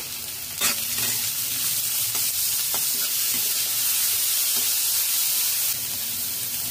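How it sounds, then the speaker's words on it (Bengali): Chopped carrots stirred and fried in a pan over low to medium flame, a steady close sizzle with occasional scraping strokes from the stirring, heard alone without talk. "গাজর দিয়ে 2 মিনিট নাড়াচাড়া করে ভেজে নিয়েছি।"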